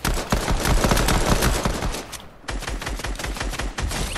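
Rapid, loud gunfire crackles almost without a break through a shooter video game match, pausing briefly in the middle before the shots resume.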